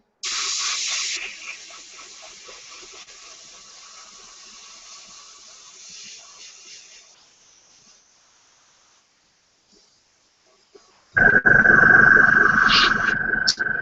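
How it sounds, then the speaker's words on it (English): An airbrush sprays paint onto a 1/72 scale Su-34 model kit. A sharp hiss starts loud, then settles into a softer steady spray for several seconds and fades to quiet. A louder, harsher hissing burst with a whine follows near the end. "if you spray it this way, you get overspray on the dark blue"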